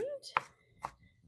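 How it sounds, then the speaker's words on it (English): Two sharp knife chops on a cutting board while finely mincing yellow and white onions for tartar sauce, close and crisp, separated by a short pause, with a brief vocal sound at the start. "So we're going to do really fine kind of mince up just because you just don't want any huge chunks of onions in your tartar sauce."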